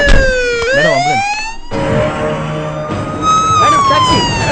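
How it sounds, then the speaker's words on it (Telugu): An ambulance siren wails loud and close, sweeping up and down in a continuous cycle that dominates the short stretch, with no speech over it. "madam ambulance"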